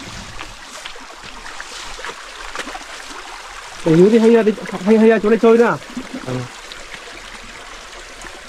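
A mountain stream in a ravine flows with a steady broadband rushing and trickling, heard continuously in the background while people talk nearby.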